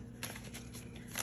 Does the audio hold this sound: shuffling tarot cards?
yes